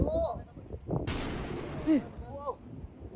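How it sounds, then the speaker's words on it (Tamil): Thunder cracks during a mountain storm on a bamboo trek in Meghalaya, India, with lightning striking nearby. One sharp, loud burst rolls off into rumble, amid nearby voices and outdoor noise. "இடி இடிச்சிச்சு."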